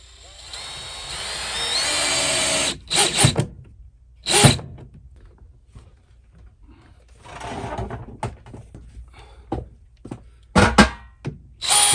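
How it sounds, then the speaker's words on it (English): A power drill boring into concrete whines in a sustained burst, then stops and restarts in shorter spurts with clunks and handling noises between, close and loud. "I did try to drill through concrete."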